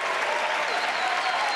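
Audience applause and cheering at the unveiling of Apple's new iPad Pro, a dense, steady wash of clapping with crowd noise throughout, loud and sustained.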